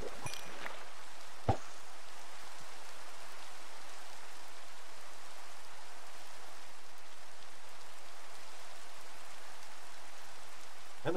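Steady rain falls in a Minecraft hardcore world, a soft, even hiss that holds at one level throughout, with one brief sharp click early on.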